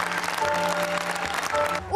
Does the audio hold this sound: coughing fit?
no